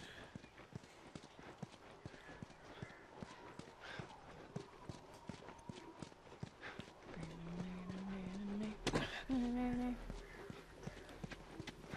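Horse hooves clip-clopping in the video game The Last of Us, a steady rhythmic patter of moderate loudness, with a person talking over it at times and a brief louder burst near the end.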